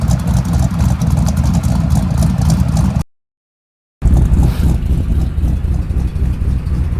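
A loud, rumbling 302 V8 engine of a 1969 Chevrolet Camaro RS Z/28 running close by, steady and throaty, broken by a brief cut to silence before the rumble resumes.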